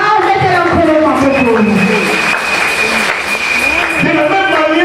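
Church congregation applauding and cheering to acclaim Jesus, dense continuous clapping with shouted voices and a prominent sustained vocal tone running through it, loud and close.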